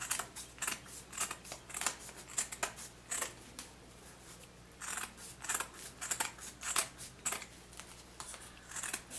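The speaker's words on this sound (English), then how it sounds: "on the underneath side, I'm going to take my scissors and just simply trim up" Scissors trim craft material in a steady series of crisp, close snips, some clustered in quick runs and others spaced apart, with no one talking.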